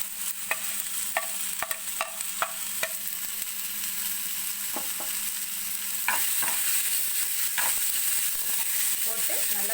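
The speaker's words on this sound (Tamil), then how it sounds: "நான் இப்போ இதுலேயே ஏற்கனவே ஃப்ரை பண்ணி வச்சுருக்கிறேன் வேர்க்கடலையும் போட்டுடுறேன்." Peanuts fry in a pan in a home kitchen, a soft steady sizzle broken by repeated scraping stirs of a spoon, with no talk.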